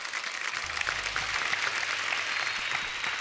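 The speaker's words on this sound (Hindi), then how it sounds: "एक बार हमारे सब स्टार्स के लिए जोरदार तालियां हो जाए" A studio audience at a televised comedy show gives steady, enthusiastic applause throughout, dense and continuous with a faint low hum underneath.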